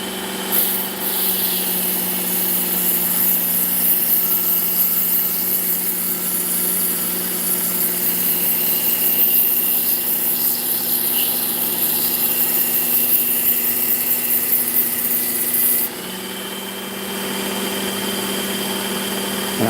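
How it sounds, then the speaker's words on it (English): A knife being sharpened on the slack part of a belt grinder gives a steady, loud, close whine with gritty hiss, running unbroken before easing slightly near the end. "I think I'm going to go this way with it, down here on this part of the slack belt"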